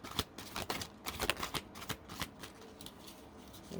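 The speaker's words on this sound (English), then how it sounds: "One more shuffle." A deck of tarot cards is shuffled by hand indoors, giving a quiet run of quick riffling snaps and flutters in irregular bursts, close and soft with no talking.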